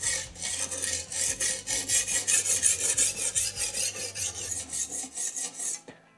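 Diamond sharpening stones rasping across a knife blade on a TSPROF K03 guided sharpening system, rough gritty strokes repeating in a steady back-and-forth rhythm, loud and close, ending abruptly.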